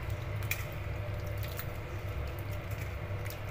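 Soaked Bombay duck fish are rubbed by hand in water, making soft, low squishing and wet dripping sounds at a fairly quiet level.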